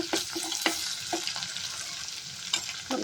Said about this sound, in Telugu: అల్లం పచ్చివాసన పోయే వరకు కలుపుకోవాలి ఇప్పుడు అల్లం ఫ్రై అయినాక